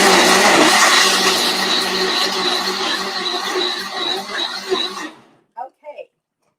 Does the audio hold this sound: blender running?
yes